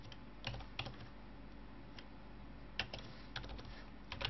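A computer keyboard is typed on in a terminal, a few scattered keystrokes clicking close and clear over a steady low hum, with no voices.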